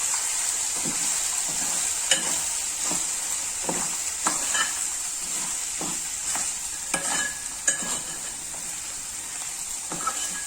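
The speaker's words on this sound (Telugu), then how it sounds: "ఇవన్నీ ఇప్పుడు సన్నని మంట మీద ఒక 5 మినిట్స్ ఉడకనిద్దాము" Fried makhana in a spiced gravy with cumin powder cooks on a low flame, giving a soft steady sizzle broken by occasional scrapes and clicks of stirring, close and without voices.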